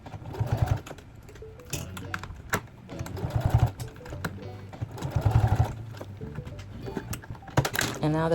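A sewing machine stitches a 1/2 inch seam around the rim of a fabric bag, running in several rapid mechanical bursts with short pauses between, close and fairly loud, with occasional fabric handling.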